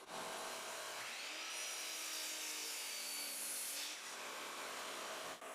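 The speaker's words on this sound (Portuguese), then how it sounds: "cortei os blocos na serra de meia esquadria" Walnut blocks being cut on a miter saw in a woodworking shop, a bright whining cut lasting about three seconds with rising blade tone, followed by the blade winding down, no talking.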